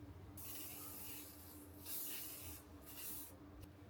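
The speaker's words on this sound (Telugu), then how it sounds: "ఇది be blunt heat protection spray 300 ml." Be Blunt heat protection spray misted onto hair during a styling session: three soft, close hissing spritzes, each lasting under a second to over a second, with short quiet gaps between them.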